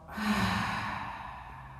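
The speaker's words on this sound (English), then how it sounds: "Take a big breath in, take a big breath out." A deep breath in and out during a family yoga session, a long, soft airy exhale lasting nearly two seconds, close and steady with no talk.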